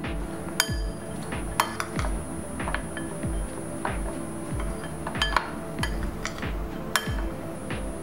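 Coriander and grated paneer are stirred together in a bowl, a spoon clinking and scraping against it in a steady rhythm of light metallic taps, close and fairly quiet.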